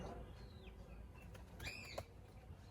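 A burst of wingbeats as several Giribaz pigeons flap and take off, a rapid fluttering rush rising out of a quiet outdoor background, with a faint chirp nearby.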